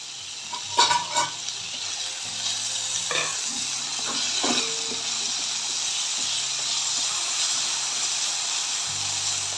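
Moong dal roasting in ghee in a pan, a steady soft sizzle with a few sharp stirring scrapes and clinks near the start, close and moderately loud.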